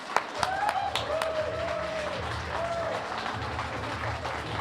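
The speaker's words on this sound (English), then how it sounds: "Let's give them a huge hand of applause." Audience applause fills a Magic: The Gathering Pro Tour hall as the Hall of Fame class is presented, steady broadband clapping throughout with a few sharp individual claps and faint voices and whistles mixed in.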